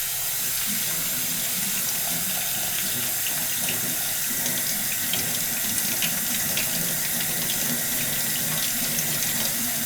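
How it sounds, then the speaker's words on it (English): Tap water runs steadily close by as sprouting bird seed is rinsed in an Easy Sprout sprouter, giving a constant splashing rush with no voices. "12 hours later, it is once again time to rinse and drain."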